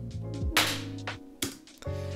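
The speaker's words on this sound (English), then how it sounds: "So a very convincing slap sound." A self-inflicted slap to the face, recorded as a sound sample, lands as a few sharp, close smacks among quick rustling and handling noises, with no speech.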